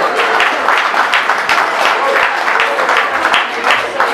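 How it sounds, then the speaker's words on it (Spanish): A crowd applauds a birthday girl at a mariachi party, with loud, dense clapping holding steady throughout and voices mixed in. "El aplauso que se escuche fuerte para ella."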